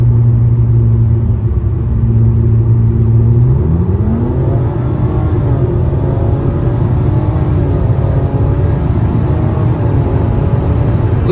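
Modified Nissan Maxima with a chip accelerating hard, its engine revving up in a rising pitch sweep after an idle, then holding a loud, close, steady roar.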